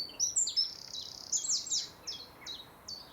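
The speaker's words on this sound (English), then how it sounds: "As the old wren agrees." A wren sings in spring countryside near Lympne and Hythe, Kent, a bright, rapid run of high trilling notes and chirps close by, with no other sounds over faint background hiss.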